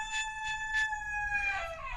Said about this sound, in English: them chickens are fired up about this meal